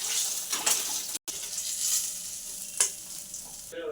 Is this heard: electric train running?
no